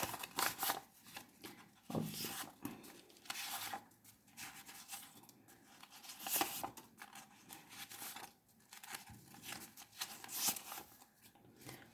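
A deck of intuitive reading cards being shuffled by hand, repeated quick riffling and rubbing bursts close up, with brief pauses between passes and no talking.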